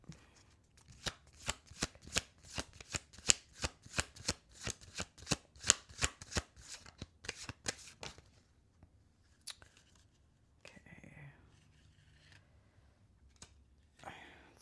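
Tarot cards being shuffled in a fast, steady run of crisp riffling snaps for about eight seconds, then a few scattered card flicks and handling noises in a quiet room.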